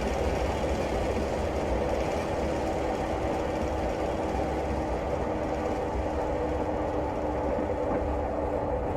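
A Class 101 diesel multiple unit coasts downhill between Berwick-upon-Tweed and Newcastle in Train Simulator Classic, producing a steady, even rumble of engine and rolling wheels with a faint rhythmic clatter and no talk.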